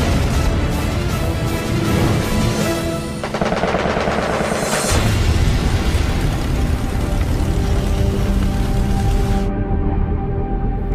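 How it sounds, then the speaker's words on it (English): Machine guns on WWII fighter aircraft fire in long, continuous rattling bursts during a dogfight with a Japanese Zero, loud and dense with roaring engine noise beneath, and no talking. "McWhorter slides his aircraft into the same plane with the Zero and rakes him with gunfire and gets a kill"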